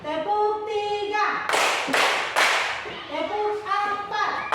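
Three sharp, loud group hand claps from a classroom of children, close and evenly spaced in the middle, with children's chanting voices before and after.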